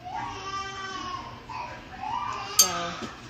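A sleepy young child fusses and whimpers faintly in the background of a home kitchen during meal preparation, with soft, intermittent cries and a brief clink partway through.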